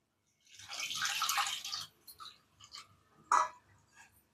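Tamarind water poured into a pot of Tirunelveli-style bottle gourd sambar, with a steady splashing pour of about a second and a half, then a few softer drips and one sharper splash, close and without talk.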